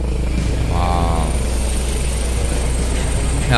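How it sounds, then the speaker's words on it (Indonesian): A Malaysian police helicopter flies overhead at an independence month launch ceremony, a loud, steady engine and rotor drone that fills the whole stretch, with voices talking over it. "Helikopter."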